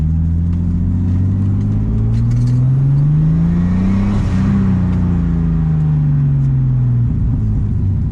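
A freshly rebuilt, forged, turbocharged M50-engined BMW E30 running about 10 psi of boost pulls hard up through the revs, a loud, close engine note rising steadily, dipping briefly at a shift, then climbing again.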